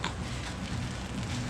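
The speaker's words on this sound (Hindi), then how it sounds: "बारिश नहीं है, ये ऊपर से पानी गिर रहा है कहीं से।" Water falling steadily from somewhere overhead in Maafushi, a dense hiss of drops pattering on surfaces like rain, constant and fairly close throughout the short stretch, with no voices.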